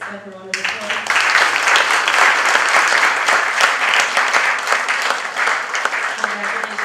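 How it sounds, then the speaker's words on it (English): Audience applauding at a naturalisation ceremony, with sustained, even clapping that starts abruptly after a brief spoken moment and stays loud for several seconds. "Give yourself a round of applause."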